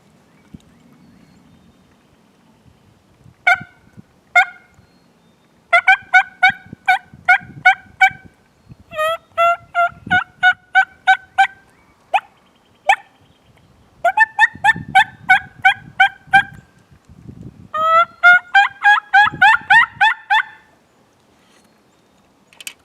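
Rapid gobbling yelps from a Thunder Chicken turkey game call made by Beaver Creek Game Calls, played in repeated bursts of quick notes with short pauses between, fairly close and clear, no talk.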